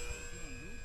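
An RC Mustang model airplane flies over the field with a steady engine drone whose pitch bends slightly. The whine is brief and continuous.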